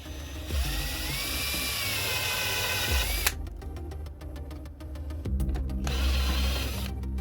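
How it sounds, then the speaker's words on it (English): Power drill boring holes into an electrical box, a whirring, buzzing motor whine in bursts with brief pauses, moderately close and heard alone. "So I'm gonna drill 4 holes and drill my clearance hole."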